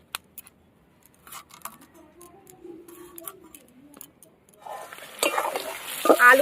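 Onion fries in a pan with chopped tomato and garlic-ginger paste for a cauliflower bharta: a few faint clicks and a soft stir at first, then a louder rush of sizzling and scraping toward the end.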